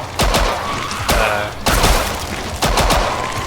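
Hip-fire gunshots in the video game Killing Floor 2, several loud, close heavy blasts spaced roughly a second apart, each with a short rumbling tail.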